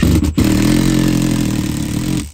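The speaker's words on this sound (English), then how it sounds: "I'm gonna grab a bolt and impact and see if I can drive it through" An impact driver drives a bolt through factory seam sealer at a bench seat mount in a tow truck cab. It gives a loud, close, continuous buzzing rattle with a brief stutter near the start.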